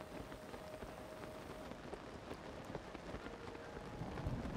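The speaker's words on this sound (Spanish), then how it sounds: "Buah, y está lloviendo." Steady rain pours across the whole stretch in a Zelda video game during a thunderstorm, a dense hiss with scattered drop ticks, faint and continuous, rising slightly toward the end.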